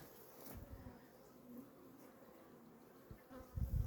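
Honey bees buzz around weakened hives damaged by varroa mites as they are merged, a soft continuous hum with a few louder passes near the end, no talk.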